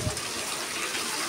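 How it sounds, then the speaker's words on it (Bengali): Boiled eggs fry in hot oil in a home kitchen, giving a steady, dense, hissing sizzle that stays even and close throughout, with no voices. "এবার ডিমগুলোকে গরম তেলের মধ্যে আমি একটু ভেজে নেব।"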